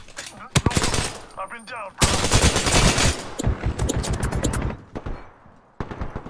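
Rapid bursts of gunfire in the video game Apex Legends, loud close automatic fire in several volleys with brief pauses, while a player talks over the shooting.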